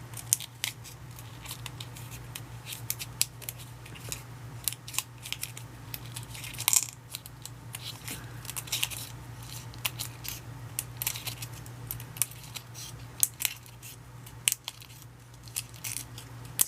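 Scissors trimming metallic paper for a Valentine wand: close, rapid snips and crinkly rustles repeat steadily throughout, over a low constant hum, with no voices.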